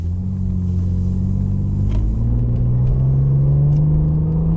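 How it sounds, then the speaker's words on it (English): Holden Commodore VF SV6 driving, heard from inside the cabin: a steady, loud low engine rumble with a slowly rising drone as it accelerates, no talking. "Yadu, sitting inside of here, going for a drive"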